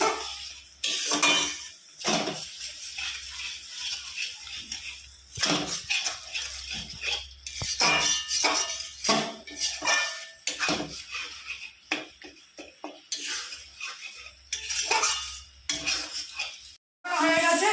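Masala cooked down with a little water in a pan, stirred for a fish curry with potato and eggplant, loud metallic scraping and clinking of a spatula in bursts with brief pauses, close up, no talking.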